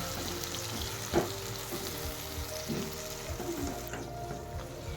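Onion paste frying in hot oil in a pan, a continuous close sizzle and crackle with a couple of louder stirring scrapes.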